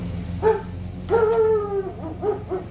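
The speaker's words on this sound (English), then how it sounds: "Hey Bella, you know what would be really great is if while I'm recording, you start barking" A dog barks nearby, a short bark followed by a longer drawn-out howling bark, then a few quicker yips.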